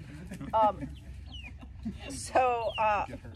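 Hens cluck in short bursts near the listener, with a few sharper squawks toward the end over a low background murmur.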